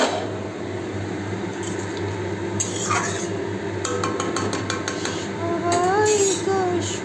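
Fish goes into a pan for a fish curry amid kitchen clatter: clinking utensils, pan scrapes and a soft squishy splash, close by, with faint background voices and a brief high whistle-like tone.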